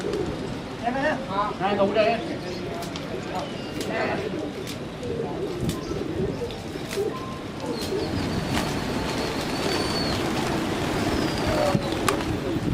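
Pigeons coo softly amid a busy outdoor wash of ambient noise and distant voices, with a few faint chirps scattered through.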